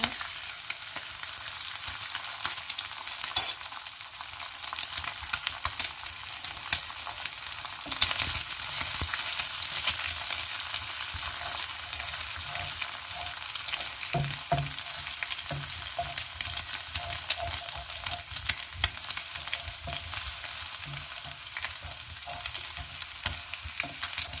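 Pad Thai with garlic, grilled chicken and egg sizzles and crackles loudly in a hot pan with scraping stirs throughout, a continuous frying hiss with no voices.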